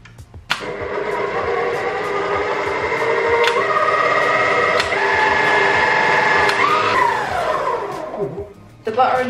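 Electric mixer beating butter, sugar and eggs for a vanilla wedding cake batter, a steady close whirring drone that holds for most of the stretch, shifts pitch once near the end, then briefly cuts out and restarts.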